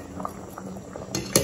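A pot of plantain and yam porridge boils on a gas stove, giving a soft bubbling and spattering under a steady hiss, with light clinks of metal and a sharper clatter of a lid or utensil near the end.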